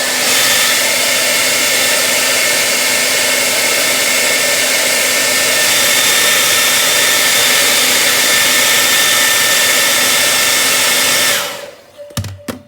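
A hair dryer blows hot air onto the plastic window of a Funko Pop box, a loud, steady, close whoosh that runs unbroken for about eleven seconds before cutting off, leaving a few brief clicks and handling noises.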